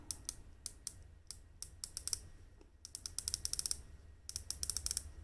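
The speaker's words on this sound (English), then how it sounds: "So it is very loud clicking action, very snappy, pretty smooth." An AddiesDive quartz dive watch's 120-click unidirectional bezel turns in bursts of crisp, snappy ratcheting clicks, close and bright, with rapid runs separated by brief pauses.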